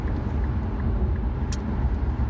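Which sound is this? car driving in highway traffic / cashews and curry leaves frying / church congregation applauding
car driving in highway traffic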